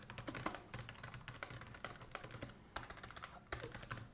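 Close-up typing on a computer keyboard: quick bursts of light clicking keystrokes separated by short pauses, crisp and alone with no talk.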